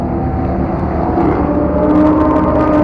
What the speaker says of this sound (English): that sound of that Lamborghini just makes you want to buy it